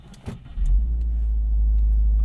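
A Subaru WRX with a newly fitted shifter bushing and shift plate starts up after a few faint clicks, then settles into a loud, close, steady low engine rumble with no talk.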